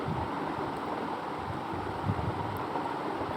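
Potatoes for aalu posto sizzle in hot oil with dried chillies, a steady dense frying hiss that carries on without break and without talk.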